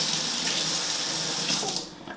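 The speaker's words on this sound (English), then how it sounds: "Let me rinse this off." A kitchen tap runs in a steady close hiss while something is rinsed under it, cutting off near the end.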